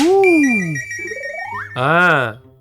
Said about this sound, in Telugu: వచ్చింది గోల్డ్ రింగ్ కాదురా, ఫోన్ రింగ్